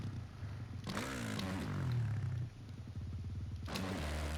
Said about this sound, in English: Downshift. Accelerating going out.